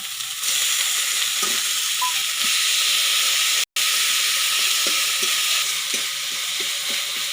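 Ginger-garlic paste and onion paste fry in a pan with a loud, steady hiss and sizzle, close by, punctuated by soft knocks of a spoon stirring, with a brief cut in the middle.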